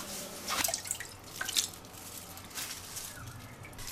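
Running water splashes and drips over chopped black-bone chicken being washed, a light steady patter with a few louder splashes, close and alone with no talk.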